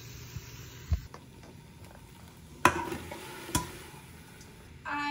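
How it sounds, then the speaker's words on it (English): Spices toasting in a pan with curry paste, curry powder and tomato paste for a coconut-free curry: a quiet, steady sizzle broken by a few sharp clinks and scrapes of stirring. "So I'm just toasting up the spices"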